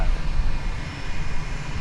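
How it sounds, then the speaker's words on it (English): An American Airlines jet on flight 1559 to Chicago O'Hare at DFW Airport gives a brief, steady engine rumble, fairly loud and unbroken for about two seconds. "There's American Flight 1559 going to Chicago O'Hare."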